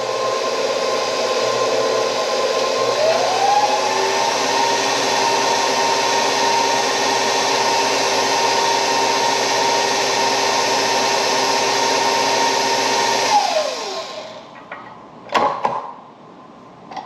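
Electric mixer blending pound cake batter, a steady loud motor whir running continuously for about thirteen seconds with a slight pitch rise early on, then cutting off and leaving faint clatter.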